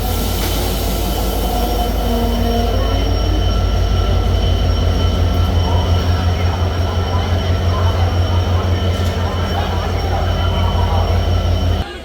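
The Banalata Express running between Dhaka and Rajshahi makes a loud, steady rumble with rhythmic wheel beats and thin squealing from the rails, cutting off abruptly at the end.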